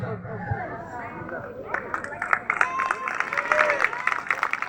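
A crowd claps and cheers with scattered, uneven applause, over a background of talk and babble. The clapping builds partway through.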